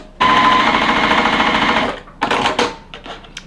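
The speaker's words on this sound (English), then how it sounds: "Then we're going to stitch on either side of the line using a scant 1/4 of an inch." A sewing machine stitches quilt fabric a scant quarter inch from a marked line, running steadily for about two seconds, then a few short bursts of stitching follow.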